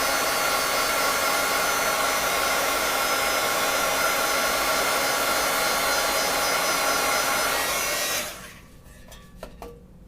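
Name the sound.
heat gun drying watercolor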